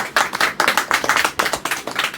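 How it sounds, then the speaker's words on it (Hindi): A small group claps at a student award ceremony for monthly class test results, giving a quick, steady, close run of hand claps that lasts the whole stretch. "ताली बजा दो"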